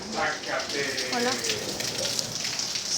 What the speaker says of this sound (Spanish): Estoy aquí y está lloviendo muy fuerte afuera.